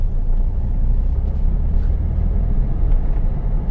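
Car engine accelerating in second gear from about 18 km/h, a steady loud low rumble heard from inside the cabin without a break.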